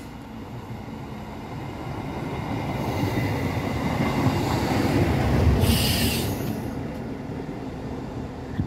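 An express train rumbles past nearby, its roar swelling and fading as wheels clatter on the rails, with a brief high squeal midway.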